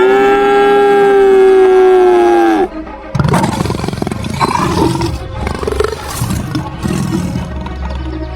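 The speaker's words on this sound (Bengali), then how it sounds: "বাঁধা গরুগুলো বাঘটাকে দেখে ভয়ে জোরে জোরে ডাকতে থাকে" A frightened cow bellows loudly in one long sustained moo, followed by rougher, noisier animal cries and roaring sounds.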